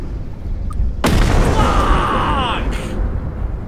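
A bomb detonates in the video game Content Warning with a sudden broadband boom, followed by a rumbling, crackling tail of debris that lasts a couple of seconds over steady background noise.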